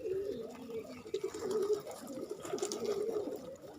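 Pigeons of native breeds on a farm coo softly and continuously, low and faint, with light rustling and a trickle of water-like noise in the background.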